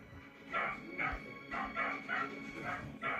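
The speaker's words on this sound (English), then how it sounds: "when you get 6 dogs together, one goes, they'll all go" Several dogs gathered as a pack of six bark in quick repeated bursts, roughly one every half second, fairly faint and somewhat distant, with no talk over them.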